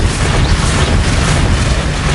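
In a Hogwarts video game, the Accio spell is cast with a loud, dense, rushing blast that fills the whole moment with a heavy booming roar and no voice.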